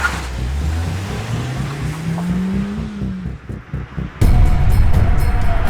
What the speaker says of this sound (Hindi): ओए, चल गाड़ी घुमा।